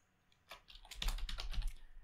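Close, quick clicking of keys on a computer keyboard, a short burst of typing that starts after a brief quiet moment, with no talking.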